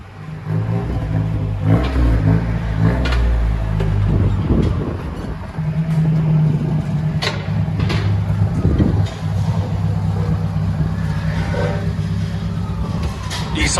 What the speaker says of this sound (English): I've never heard a Nissan hardbody like that. So now, if you guys want that sound, go with the DYNOMAX race bullet.